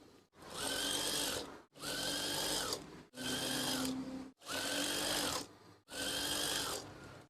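A sewing machine stitches curtain fabric for tab-top curtains, running in five steady whirring bursts of about a second each, separated by brief pauses, close and fairly loud.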